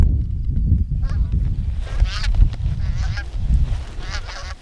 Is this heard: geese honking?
yes